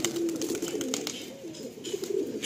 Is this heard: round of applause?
no